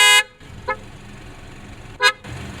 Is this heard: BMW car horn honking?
yes